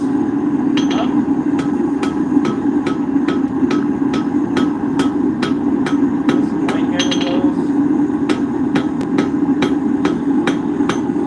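Steady hammer blows ring out on a mulling iron being forged, sharp metallic strikes repeating at an even rhythm over a constant low hum of shop noise.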